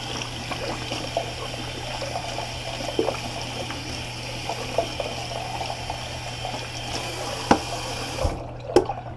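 Tap water running steadily while a shaving brush is rinsed at a bathroom sink, a soft continuous trickle with a few small clinks before it cuts off.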